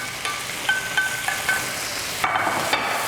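Fried anchovies and garlic scapes are tossed back into a hot pan with a sticky soy-sugar glaze, giving a sizzle with scraping stirs and a few light clacks, close and fairly loud, without speech.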